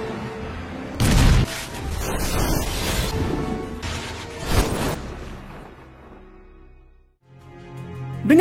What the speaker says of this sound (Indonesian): kini memilih untuk meledakkan bus tersebut dengan melempar granat ke kolong bus itu